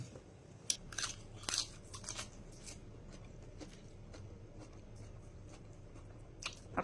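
Crunchy bites into a crisp, sweet salad, recorded up close. Several sharp crunches come early, then quieter chewing continues over a low background hum, with no talking.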